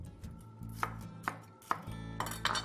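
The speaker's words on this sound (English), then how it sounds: "I'm just going to give it a little bit of a rough chop" A knife roughly chopping food on a board, with four or five distinct sharp chops spaced about half a second apart over a low background hum.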